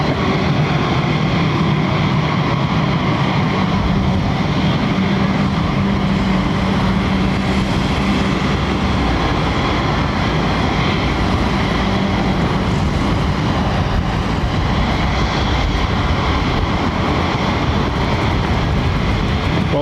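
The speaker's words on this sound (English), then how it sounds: "Finishing with a Rolls-Royce Trent 800 power 777-200. Could make a racket." A Boeing 777-200 with Rolls-Royce Trent 800 engines at London Heathrow sends out a loud, continuous, dense engine roar with a low rumble and a faint tonal hum, sustained evenly with no voices.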